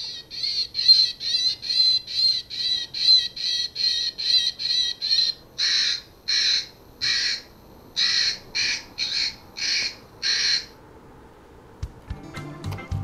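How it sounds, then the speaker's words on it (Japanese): An electronic bird repeller broadcasts recorded starling calls as a rapid string of chirping bursts, then switches to a run of loud, harsh crow caws, played at low volume with no talk over it. "一番最初は多分ムクドリで、後半に流れたのはカラス"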